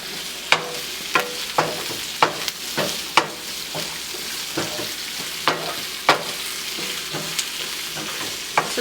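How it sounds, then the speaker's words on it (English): Onions frying in a pan and stirred over the heat, with a steady sizzle punctuated by about a dozen sharp spatula scrapes at irregular intervals, close and fairly loud, with no voices. "stir it. Keep stirring till it gets little translucent."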